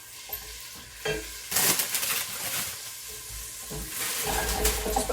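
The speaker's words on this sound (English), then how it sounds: "So I'm going to coat these with the butter and the oil." A shallot sizzling in butter and oil is stirred in a pan, a steady frying hiss with scraping bursts of the spoon, close and fairly loud.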